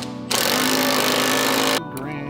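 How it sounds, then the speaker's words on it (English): Pneumatic air hammer pounding on a Jeep Grand Cherokee WJ pitman arm, a loud, steady rapid-fire rattle that runs for about a second and a half before cutting off, close up. "Then I hit it with my air hammer."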